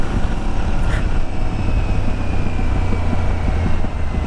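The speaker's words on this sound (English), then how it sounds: "It likes to sputter and backfire." Aprilia Tuareg motorcycle engine running steadily at close range, a continuous loud rumble with a brief sputter near the one-second mark, with wind noise throughout.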